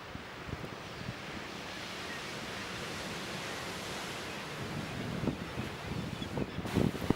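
Ocean surf pounds a shore where walruses haul out, a steady broadband wash of breaking waves with wind noise across the microphone, building slightly toward the end.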